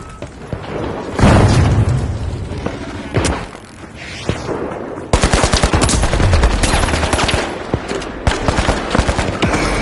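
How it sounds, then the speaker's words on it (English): Gunfire and a frag grenade blast in the shooter game The Finals: a loud burst near the start, then dense rapid automatic fire with sharp booms running steadily through the rest, all close and heavy. "Throwing a frag!"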